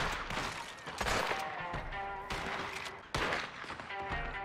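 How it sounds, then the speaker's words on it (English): Shotgun blasts in a multiplayer shooter, several loud booming hits spaced across the stretch over busy game noise. "Oh my gosh, I got shotgun in the face."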